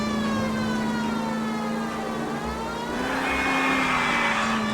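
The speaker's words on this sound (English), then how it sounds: "Here, look, I got my siren on now." A loud, continuous wailing police car siren in the video game L.A. Noire sweeps slowly up and down over a steady engine hum, close and unbroken throughout.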